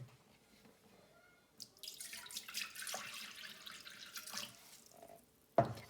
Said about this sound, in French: 250 g d'eau. Donc je commence par mettre 250 g dans mon bol.